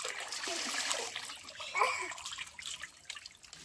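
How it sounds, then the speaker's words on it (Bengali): Water trickles and splashes as it is slowly poured over a child's head during a bath, a continuous close splattering with a brief louder splash midway. "এই মাথায় আস্তে আস্তে পানি ঢালো।"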